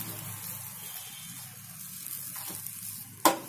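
Masala for stuffed green chillies roasting in a pan, a soft steady sizzle with light stirring, then a short sharp scrape or clatter near the end.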